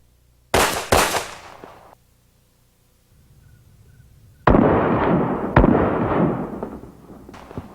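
Two loud pistol shots fired close together during a low-light shooting drill with a handheld flashlight, each a sharp crack with a short decay, followed after a quiet pause by another loud blast and lingering rumble.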